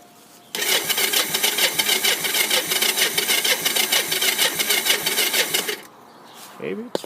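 A cold three-wheeler engine cranks and fires into a rapid, loud, rhythmic chugging idle, then cuts out abruptly, leaving a short quiet stretch with faint voices and small noises.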